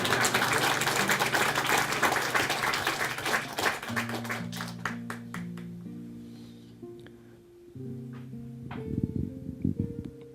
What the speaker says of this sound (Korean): 이러면서 박수가 나와야죠